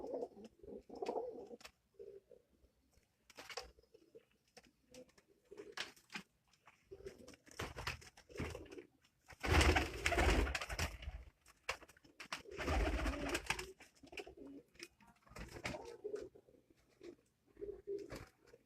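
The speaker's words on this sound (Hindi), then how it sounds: "ये उनके कबूतर हैं।" Pigeons coo softly in repeated throaty bursts, with scattered rustling and a couple of louder flurries that sound like flapping wings.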